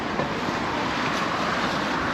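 Breezy wind along the seaside promenade in Palma de Mallorca, a continuous broadband rush of air buffeting the microphone, steady and fairly loud throughout with no voices.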